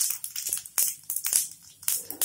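Mustard seeds and cumin hit hot oil with bright, sharp crackles and pops in quick irregular bursts. Short quiet gaps fall between the bursts.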